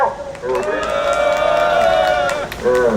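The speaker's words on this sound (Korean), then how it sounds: "박수와 함성으로 받아주십시오." Crowd at a construction union press conference giving cheering and applause, a sustained roar of voices with clapping that swells and holds for about two seconds, then dips before rising again.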